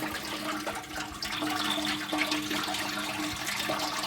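A steady gush of coolant water drains from a Toyota Qualis car radiator, pouring and splashing continuously, fairly close, with no talking.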